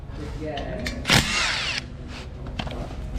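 A power tool fitted with a socket spins a steering gear bolt on a Ford Fusion rack and pinion, giving one loud, short whirring burst of under a second amid quieter garage clatter and faint background noise.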